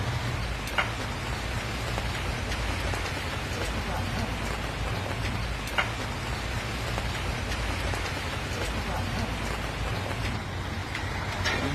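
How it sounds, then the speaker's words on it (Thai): Heavy rain pours steadily onto surfaces, a dense, constant hiss that stays loud throughout with no letup, while faint voices sit low beneath it. "ฝนดีคักครับพี่น้อง"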